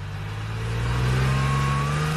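A car engine revving up as it approaches on a race track in a forest, a steady mid-pitched drone that grows slightly louder and rises in pitch over a couple of seconds, with no talk.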